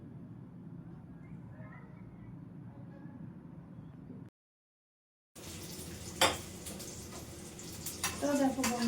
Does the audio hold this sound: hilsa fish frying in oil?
yes